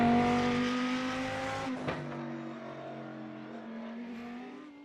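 A Lamborghini GT race car at the Nurburgring in a sim racing championship, its engine note holding steady and then fading away gradually after a brief bump, with no one talking.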